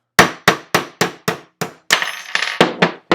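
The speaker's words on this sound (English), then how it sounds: "hammering a little bit." A hammer taps out the slide stop of a Walther steel-frame pistol, giving about a dozen sharp, close metallic strikes at a steady rhythm that quicken slightly toward the end, with no talking.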